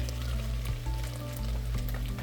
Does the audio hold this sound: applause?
no